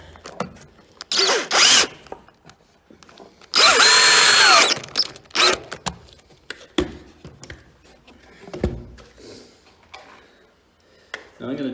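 A power drill whirs in short bursts, with one long loud run as a screw is driven in during underfloor insulation retrofitting, alongside clicks, handling noise and brief speech.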